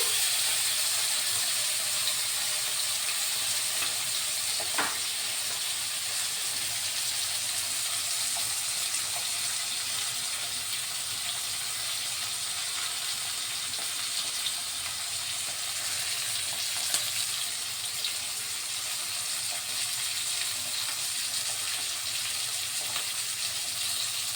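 Koi fish fry in hot oil in a kadai, giving a steady loud hiss of frying that runs unbroken throughout, close up, with only a couple of faint knocks and no voices.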